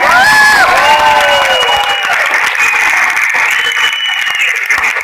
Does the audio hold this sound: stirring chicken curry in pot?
no